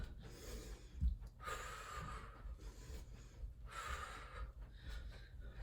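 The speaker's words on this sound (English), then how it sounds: "Time to focus on the breathing." Heavy, rhythmic breathing during a strength and conditioning workout, with audible breaths drawn in and pushed out in steady cycles, close and fairly loud with no talking.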